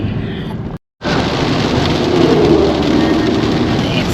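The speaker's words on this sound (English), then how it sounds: "It's just bucketing down." Heavy rain pours down steadily in Australia's Gold Coast region, a dense, loud broadband roar that stops briefly and then resumes at full strength, with no voices.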